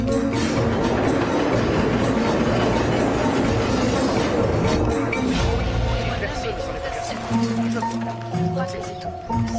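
Tram running on rails in a period drama set in early 1900s Toronto, a loud continuous rumble with rhythmic clattering and a faint squeal, steady throughout, with voices talking over it.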